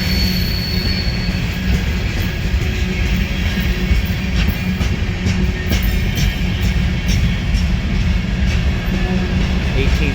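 A long freight train of scrap metal gondolas, cement cars and empty tankers rolls past close by, with loud continuous rumbling, wheel clatter and squeal. Led by ex-Missouri Pacific SD40-2 and SD70MAC engines.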